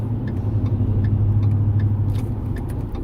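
Steady low car engine rumble during an evening commute home from work, a constant mid-level drone heard from inside the vehicle with faint ticking, no voices.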